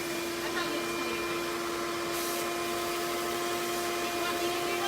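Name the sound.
vacuum cleaner cleaning out a kiln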